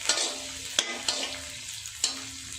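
Garlic cloves, small potato pieces and roughly chopped green chillies frying with onions in a pan, a steady close sizzle broken by a few sharp stirring clacks.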